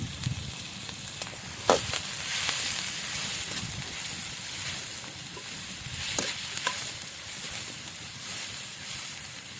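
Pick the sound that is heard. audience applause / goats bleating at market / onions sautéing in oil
onions sautéing in oil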